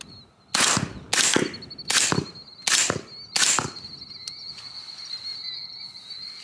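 Five suppressed rifle shots from an Aero Precision K30 suppressor firing subsonic 300 Blackout, evenly spaced and fairly loud close up, with steady cricket chirping outdoors continuing after the last shot.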